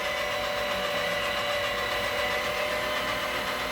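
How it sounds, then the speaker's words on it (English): Electric meat grinder runs while grinding pork for homemade sausage, giving a steady, close motor whine and hum with no breaks. "We're going to turn this grinder on. And we're going to make some ground pork to make sausage."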